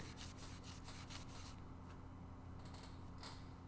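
Steady rasping of sandpaper rubbing on a wooden guitar body, repeated back-and-forth strokes, close and quiet against a constant low hum.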